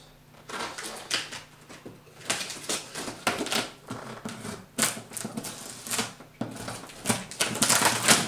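A knife slices open the cardboard shipping box of an LG 27-inch 27EA73LM IPS LED monitor, producing a close series of rasping scratches and tearing strokes in uneven rhythm with no talking.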